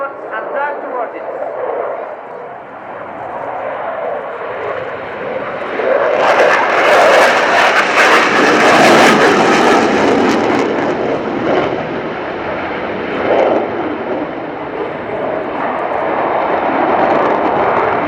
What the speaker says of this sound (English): The pilot pulls up to allow the weapons officer to visually acquire the target